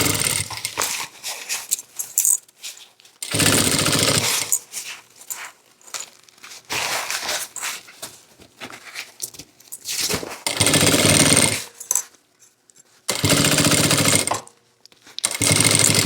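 A sewing machine stitches the lining of a thermal bag in loud, close bursts of rapid mechanical chatter that start and stop several times, separated by near-silent pauses and softer handling noises.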